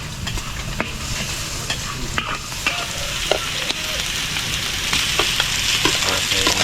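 Food sizzles and crackles steadily in a hot pan as it fries to golden brown, with occasional stirring clicks and pops close by and no voices.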